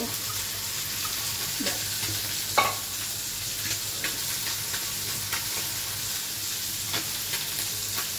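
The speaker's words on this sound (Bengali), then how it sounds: "তরকারিতে আমার বলক চলে এসেছে" Fish curry (samudrik fish) simmering up to a boil in a pot, a steady low bubbling hiss throughout with occasional faint clinks and taps, fairly quiet and close, with no voices.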